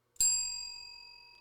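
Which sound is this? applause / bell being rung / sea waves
bell being rung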